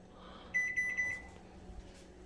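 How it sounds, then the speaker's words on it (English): A kitchen timer beeps in a short run of high, clear tones for about half a second, then the room goes quiet apart from faint background noise. "Kitchen timer, 20 more minutes."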